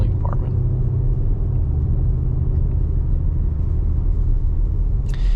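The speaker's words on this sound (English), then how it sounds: "I really like the sound that this V6 comes out with, because it's a nice deep and throaty sound" An Audi SQ5 V6 gives a steady low, deep rumble from inside the cabin while driving, a constant drone with no talk; no distinct turbo whistle stands out.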